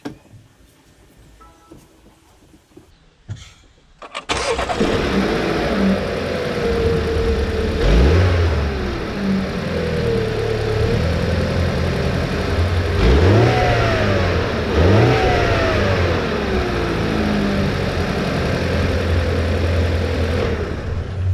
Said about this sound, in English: I'm gonna go ahead and start the car just to make sure that it runs.